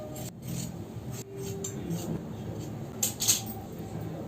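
Scissors cutting through dress fabric, a quiet series of snips and rasping slices mixed with soft handling noises.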